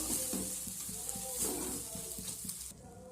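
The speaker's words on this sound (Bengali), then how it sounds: "লবণটা দিয়ে এর সঙ্গে ভালো করে মিশিয়ে নেব" Carrot and rice flour dough being stirred in a pan, with a rhythmic scraping stir repeating about every half second over a steady hiss of cooking, close and fairly loud.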